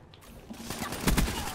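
Gunfire in the video game Black Ops 3, a rapid burst of shots fairly faint in the mix, rising toward the end.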